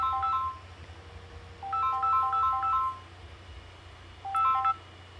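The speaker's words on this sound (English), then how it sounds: "Oh, there goes my phone." A phone rings in the video game Syberia 3, three short bursts of chirpy electronic ringtone notes separated by pauses over a low steady hum, faint and clean with no talking.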